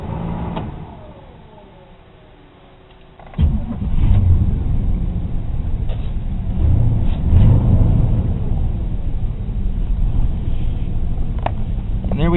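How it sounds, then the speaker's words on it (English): A Chevy 350 small-block truck engine, fresh from an alternator replacement, is started after a few seconds of quiet, then settles into a loud, steady low idle that keeps running to the end. "I am going to fire the truck up"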